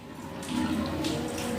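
Water poured from a jug into a spiced yogurt mixture for kadhi, a steady close splashing flow that swells after the first half-second and keeps running evenly to the end.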